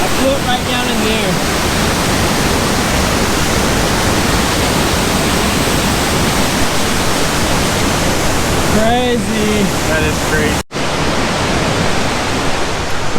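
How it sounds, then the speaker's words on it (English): A waterfall roars at night beside a trail below a sheer cliff, a loud, steady broadband rush filling the whole stretch while a voice speaks briefly over it. "The waterfall is right there."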